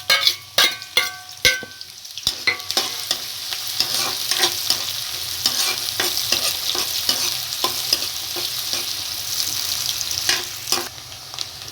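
Two medium onions, finely chopped, fry in about two tablespoons of hot oil for a beetroot and pea sabzi, with a steady close sizzle and repeated clacking stirs from a spoon against the pan, sharp hits at first, then a denser frying hiss.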